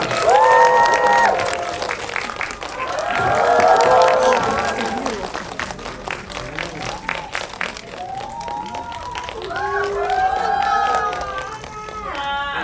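Audience applause and cheering greet film actors arriving at a Korean movie premiere Q&A event, a loud crowd swell rising and falling, with a host's voice talking and calling out over it.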